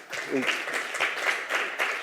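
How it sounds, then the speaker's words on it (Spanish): At the close of a talk on digital transformation and corporate travel, a conference audience gives a short round of applause, steady and moderately loud, with a voice briefly heard over it. "Un aplauso"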